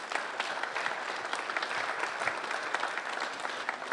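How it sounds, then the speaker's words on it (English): A crowd at a governor's town hall meeting breaks into sustained applause, a dense, even wash of many hands clapping at moderate distance, with no talk over it. "Give yourself a round of applause"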